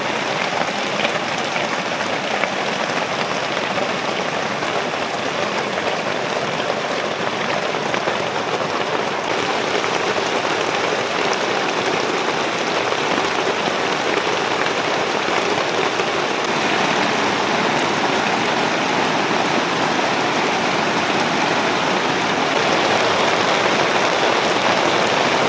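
Heavy storm rain pours down without letup beside a pond where fishing lines are set, a loud, dense hiss that stays constant throughout, with no voices heard.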